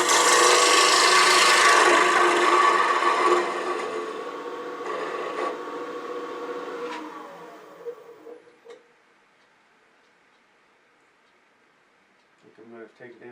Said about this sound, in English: I'm going to switch the bowl gouge to kind of remove the bulk of that and just take it down some.